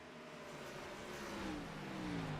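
A race car engine from the Outcast Gen4 Series at Iowa revs steadily and climbs in pitch during a green flag run, a continuous whining drone heard at moderate distance with no talk over it.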